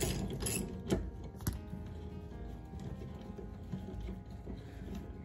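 Ratcheting and clanking mechanical sounds from a wrench working on an 8 3/4 rear differential axle during stud replacement, with a few sharper metallic clicks over a steady low background.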